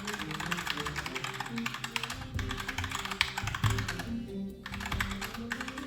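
Fast, steady typing on a Cooler Master CK552 mechanical keyboard with Gateron Red linear switches, a close rapid patter of soft, non-clicky keystrokes with occasional heavier key hits.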